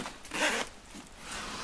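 Zipper pulled along a Think Tank Urban Disguise 60 v2 camera bag, fitted with pull tabs: a bright rasping zip of about half a second, then a softer short follow-up pull, close and alone.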